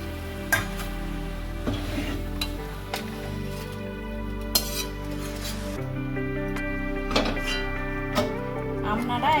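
Ivy gourd greens being stir-fried in a pan give soft scraping stirs and a gentle sizzle. A steady tonal hum runs underneath.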